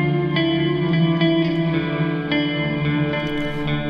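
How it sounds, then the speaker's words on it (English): A sampled musical loop plays back from an Elektron Octatrack with reverb applied, a steady sustained tonal texture with soft repeating accents running continuously at even loudness, no voices. "It has already some effects applied, just some reverb, nothing specific."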